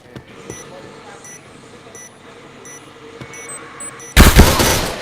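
In the PointBlank shooter game, soft periodic electronic beeps tick over a quiet background until a sudden loud burst of rapid gunfire erupts in the final second.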